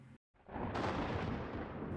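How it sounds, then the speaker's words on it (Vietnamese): A thunder clap used as a sound effect in a narrated audiobook: a brief drop to silence, then a loud, sustained rumbling boom that swells and rolls on to the end, with no voice over it. "Một tiếng sấm nổ vang rền."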